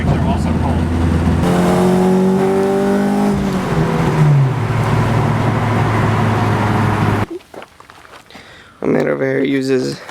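A K-swapped Honda Civic with an R18 engine and VTEC revs loudly near the open hood, climbing steeply in pitch and holding a high whine before cutting off, then a shorter burst of revving after a brief lull.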